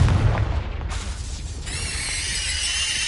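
A Confringo spell explosion in Hogwarts Legacy on PS5: a sharp, loud boom at the start that decays into crackling debris and a lingering hiss.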